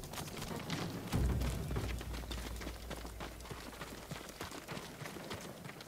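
Samurai horses' hooves clip-clopping in the Ghost of Tsushima game, a steady patter of footfalls under a low rumble, with a brief louder thump near the start.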